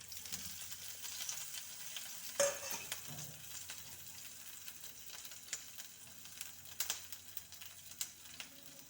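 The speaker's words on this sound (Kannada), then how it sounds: "ಸ್ವಲ್ಪ ಫ್ರೈ ಮಾಡ್ಕೊಳ್ಳೋಣ. ಸ್ವಲ್ಪ ಫ್ರೈ ಆಗುತ್ತೆ." Curry leaves, dry red chillies and spices frying in hot oil for a curd curry, a steady soft sizzle with a sharp crackle near the start and a few scrapes of stirring.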